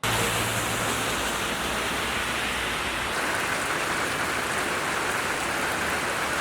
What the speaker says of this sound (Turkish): Uyarıların ardından sabah saatlerinde beklenen yağış kent merkezinde başladı.